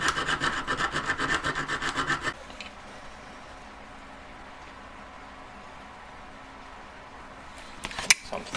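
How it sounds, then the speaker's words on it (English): A file rasps rapidly back and forth on carved wooden fingers, thinning them from underneath, in brisk close strokes for about two seconds before the work goes quiet, with a sharp knock near the end. "I'm actually filing the fingers thinner from underneath to give me that kind of ridge"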